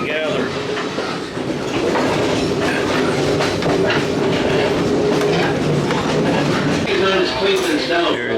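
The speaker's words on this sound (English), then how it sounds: "This is a long train." A long Great Smoky Mountain Railroad passenger train rolls along with loud, continuous rhythmic clickety-clack of wheels over rail joints and a rumbling carriage drone, heard from inside close up.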